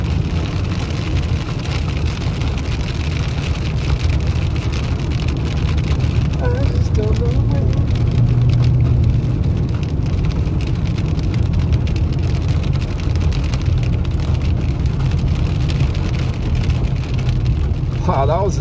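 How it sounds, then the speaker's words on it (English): Steady heavy rain roars continuously, dense and close, in Big Bear City, California, with a low rumble like a vehicle engine underneath and no pause throughout. "that was a nice little stretch of some heavy rain"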